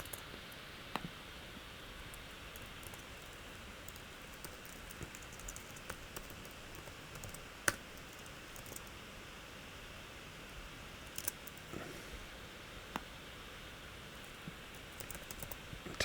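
Soft, sparse keystrokes on a computer keyboard, scattered irregular clicks with a few sharper taps, recorded close but quiet over a low steady hiss with no talking.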